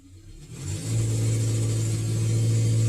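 A Kia Sorento engine with a cylinder 4 misfire history runs in reverse gear, its close, loud drone rising over the first second and then holding a steady, even hum.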